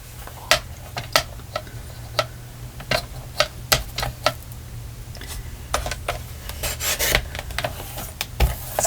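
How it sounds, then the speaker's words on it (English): Scissors snipping a small piece off a paper scrap for a crafted tag: a series of crisp, close cuts in an irregular rhythm over a steady low hum, with a brief rustle of paper handling near the end. "And then I'm going to cut that little piece off."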